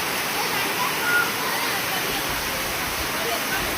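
Steady, dense rush of heavy monsoon rain falling at a temple, broadband and unbroken throughout; faint voices may sit beneath it.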